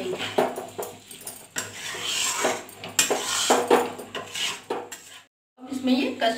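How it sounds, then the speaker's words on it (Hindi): Boiled potatoes stir-fried with spices for dry aloo capsicum sabzi, a spatula scraping and clattering against the pan in repeated close strokes, with a brief silence near the end. "अब इसमें ये उबले हुए जो मैंने फ्राई करके रखे हुए आलू वो डाल देंगे, और इसे भी अच्छे से मसाले के साथ 2 मिनट के लिए भूनेंगे"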